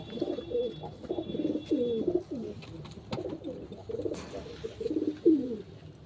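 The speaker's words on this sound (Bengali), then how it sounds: "এই একটা ফুলচিরা পায়রা" Fulchira pigeons at a tournament loft give soft, repeated low cooing in rolling phrases, fairly close and steady over faint background noise.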